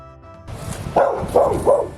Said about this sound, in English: Cheered on by the neighbor's dog